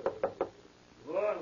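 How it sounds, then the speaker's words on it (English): Three sharp knocks on a door in quick succession, close and distinct, as a radio drama sound effect, followed by a short voiced reply. "And every time I knock..."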